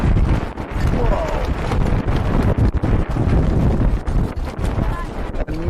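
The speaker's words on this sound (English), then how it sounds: "A massive wind gust here." Strong wind gusts buffet the microphone at an outdoor baseball game, a loud, continuous roar with sharp crackling dropouts that covers nearly everything else.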